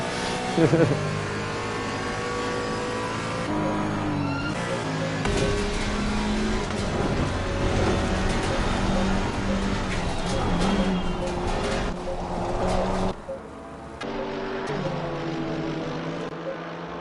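Race car engine and tyre noise from Assetto Corsa Competizione at Oulton Park, a multi-class race replay, with a steady droning engine note shifting pitch through gear changes and cornering, dense and continuous, with a brief dip near the end.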